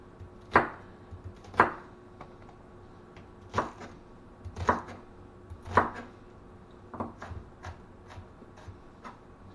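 Knife cutting little slits in food on a board while making a deer skillet, about half a dozen sharp separate chops spaced roughly a second apart, close and fairly crisp in a quiet room with no speech.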